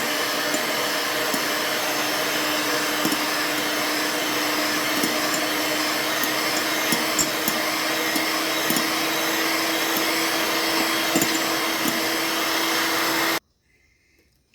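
An electric hand mixer whirs steadily and loudly while beating cake batter for a Christmas carrot and dates cake as powdered sugar is added, a constant motor drone with faint scraping ticks that cuts off abruptly near the end.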